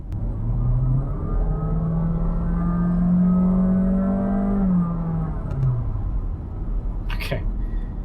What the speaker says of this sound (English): The engine comes on, but it's not corresponding to revs